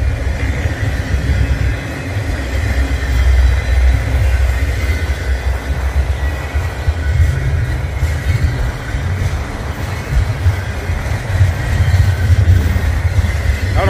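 A Union Pacific manifest freight train passes close by with a loud, sustained rumble and rolling wheel noise that swells and ebbs over about fourteen seconds, with no voices.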